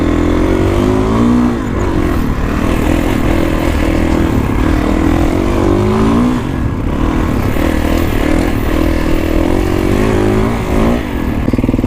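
A Kawasaki KX450X dirt bike rides through open desert trails, its engine loud and close as it revs and surges, pitch rising and falling over the whole stretch.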